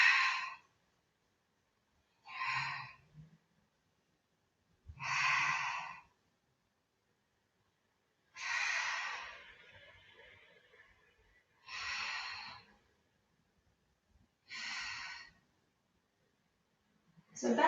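Slow, deep breaths during a Pilates exercise, about seven long audible exhales and inhales separated by silent pauses, close and fairly soft, with no talking.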